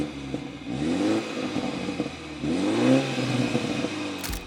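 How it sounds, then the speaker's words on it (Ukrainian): A 2017 BMW F30 330xi all-wheel-drive sedan with a turbocharged 2.0-litre petrol engine and stock exhaust revs twice, each rev rising then falling, over a steady idle hum. "Мені подобається мій вихлоп. Він в мене теж стоковий."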